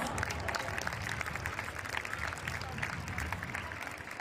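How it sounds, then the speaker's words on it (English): Schoolchildren at an annual sports meet at St. Joseph Anglo-Indian Higher Secondary School give a round of applause, a busy, moderately distant clatter of clapping mixed with crowd chatter and voices. "let's give a round of applause for the junior teams of our school"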